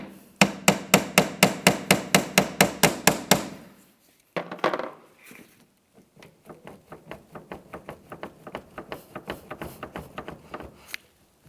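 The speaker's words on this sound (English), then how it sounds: "you can also continue on with giving it a little bit of vibration with a small hammer" Rapid, evenly spaced metallic taps from a small hammer ring out close by on the rear wiper arm of a 2000-2006 Chevrolet Tahoe, then a pause with a clunk, followed by a longer series of lighter, quicker taps.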